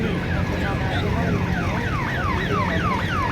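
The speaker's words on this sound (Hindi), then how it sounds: "ठीक उनके पीछे आ रही है धीरे धीरे सायरन की आवाज़ को बजाती हुई" An ambulance siren wails in repeated rising and falling sweeps as it moves slowly along in a Republic Day parade, loud and close against a steady rumble of crowd and street noise.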